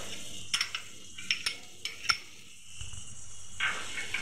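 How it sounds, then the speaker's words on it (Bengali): Garlic paste goes into a pot for lentil khichuri with a few sharp metal spoon clinks and scrapes against the pot over a quiet sizzle, soft and close. "এখন দিয়ে দিব আমি এটার মধ্যে রসুন বাটা, 2 চামচ রসুন বাটা"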